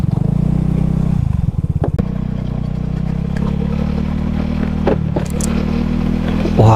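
A freshly repaired motorcycle engine idles and then pulls away nearby, a loud steady throbbing hum with rattling clatter and a few sharp knocks, slightly rising toward the end.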